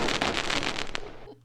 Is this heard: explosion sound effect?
yes